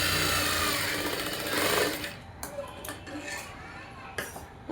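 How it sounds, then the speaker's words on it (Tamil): A sewing machine stitches blouse fabric in a fast, loud whirring run for about two seconds, then falls to quieter clicks and short bursts of stitching. "கீழே இருக்க துணியெல்லாம் நல்லா இழுத்து விட்டு படிமான தையல் போடுங்க."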